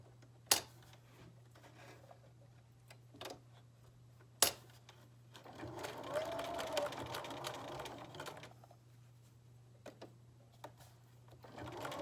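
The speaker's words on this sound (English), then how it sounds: "we're going to sew all the way from one edge to the next" A sewing machine runs once for a couple of seconds along the edge of a fabric face mask, soft and steady over a low hum, with a few sharp clicks before and after.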